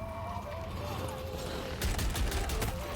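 Rapid bursts of gunfire from the video game Deadlock crackle in tight clusters over a steady in-game background hum, growing denser near the end, and a player talks over them.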